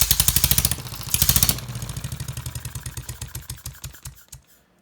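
A single-cylinder model engine running on compressed air chuffs in rapid, even puffs, starting fast and loud, then settling into a steady clatter that gradually slows and fades as the air is cut, ending in quiet.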